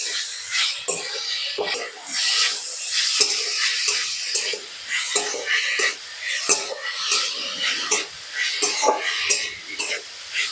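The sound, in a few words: stirring coconut filling with date jaggery and cardamom in a pan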